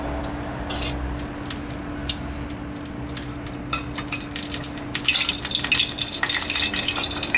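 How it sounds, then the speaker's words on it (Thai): Filling for Thai rolled rice noodles being stir-fried in a pan. A low background hum with light clinks swells midway into loud, close sizzling and frying with stirring sounds. "ขั้นตอนถัดไปก็เราจะมาผัดในส่วนของไส้ก๋วยเตี๋ยวหลอดกันนะครับ"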